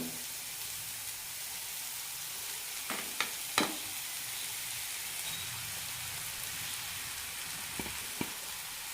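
Onions and potatoes for potato bonda fry in a pan with a steady, fairly quiet hiss, and a few sharp clatters from stirring come through now and then.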